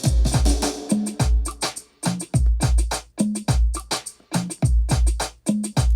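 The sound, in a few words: drum roll with heavy reverb over the whole beat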